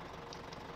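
A tractor engine idles in Farming Simulator 17, a low, steady, faint rumble held evenly for under a second.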